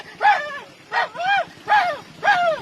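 A man imitates a dog, letting out four rhythmic barks and yelps in a row, each voiced bark separated by short pauses, close and loud.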